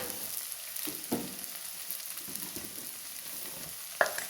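Coriander powder frying in a pan on a low flame makes a soft, fairly quiet hiss, with occasional spoon scrapes and a sharp metallic tap near the end; no talking.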